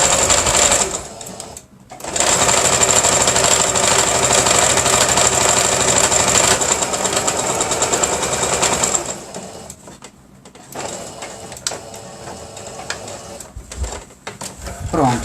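A sewing machine stitches a wallet-style eco bag, running in loud steady buzzing runs with short stops, its rattling vibration shaking a phone resting against it; someone talks briefly in the gaps.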